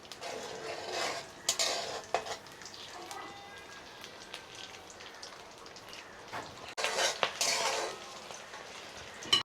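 Nigella seeds and two green chilies fry in hot oil, a faint, steady crackle broken by occasional clinks and scrapes of a spoon in the pan.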